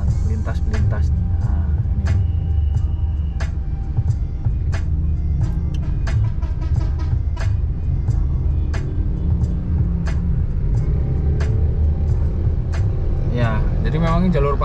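Busy traffic on the Pantura road, with big trucks and other vehicles rumbling past continuously nearby, a dense low roar punctuated by repeated sharp clicks and brief horn-like tones.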